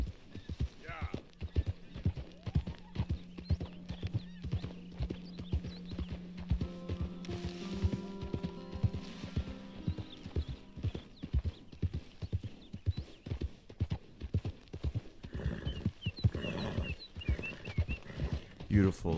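Horse hooves clop steadily in a walking rhythm in the video game Red Dead Redemption 2 for the whole stretch while a person talks over them.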